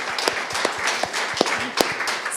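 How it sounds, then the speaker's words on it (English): Scattered applause from an audience thanking a panel at an after-party event in Berlin, a moderate crowd clapping steadily with a few sharper individual claps standing out. "can I have a big round of applause for my very informed panelists?"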